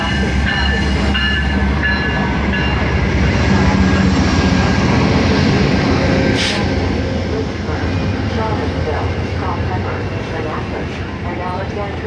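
An Amtrak passenger train rumbles steadily nearby with a continuous low roar and rattling, while a boarding-call voice speaks over it.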